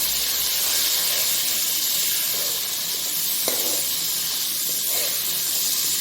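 Tomatoes frying in hot oil for a spiced potato dish, giving a steady, loud broadband hiss and sizzle throughout with a faint clink partway, no talk.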